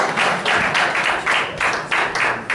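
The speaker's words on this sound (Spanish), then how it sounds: "Aplausos." At a press conference in the Mexican Senate, an audience claps in a loud, rhythmic unison, with about eight evenly spaced bursts of hand-clapping close by, each separated by a brief dip.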